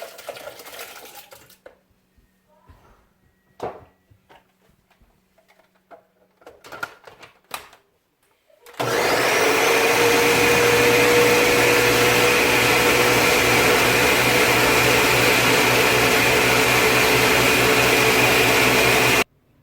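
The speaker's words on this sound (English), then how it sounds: "put my carrot and my Irish potato in my blender" A loud, steady blender whirrs continuously, blending carrot and Irish potato, after a few seconds of quiet clattering and handling noises, running without pause to the end.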